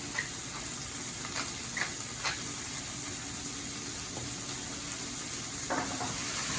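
Onions and monkfish frying in oil in a pan, a steady low sizzle running throughout with a few faint stirring clicks and scrapes, heard close and without talk.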